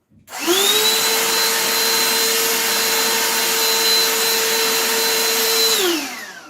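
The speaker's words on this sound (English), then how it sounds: "So I just grab my dust buster. It's the fastest." A handheld vacuum cleaning up acrylic dust after engraving whirs to life with a steady high-pitched whine, holds its pitch for several seconds, then winds down.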